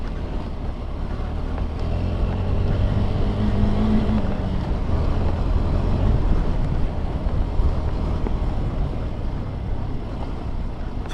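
A KTM Adventure 390 motorcycle on an off-road hill-climb trail gives a steady, dense engine drone mixed with rough wind buffeting. The noise holds at an even level throughout, with no voices.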